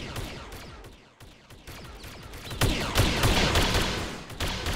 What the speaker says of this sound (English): I was just saying that there's a lot of gunfire from their side